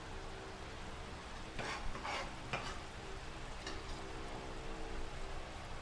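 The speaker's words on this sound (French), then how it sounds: "mon huile est chaude. Je vais mettre les oignons verts à l'intérieur." Soft, steady sizzling of green onions frying in hot oil, with a few faint crackles and stirring sounds; no one speaks.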